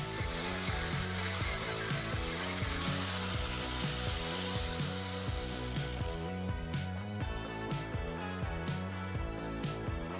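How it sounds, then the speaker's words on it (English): Angle grinder grinding the link pins of a drive chain on a 2023 Kawasaki SX1000 Ninja, a loud continuous abrasive whine with rhythmic pulsing, close up and alone throughout. "I'm going to get the angle grinder on, and you've got to grind the 2 pins down out of one of the links"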